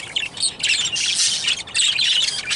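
Five-week-old baby pet birds chirp and squawk in a divided flight cage, a loud, busy chorus of overlapping calls with brief pauses between bursts.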